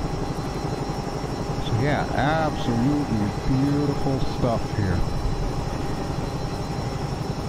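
A helicopter flying in X-Plane 11 over Chile, its steady rotor and turbine drone running continuously throughout while someone talks briefly over it in the middle.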